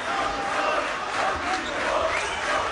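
Basketball arena crowd during a 2008 Galatasaray Cafe Crown vs Beşiktaş Cola Turka game, a steady, dense roar of many voices with shouting and chanting, sustained and fairly loud throughout.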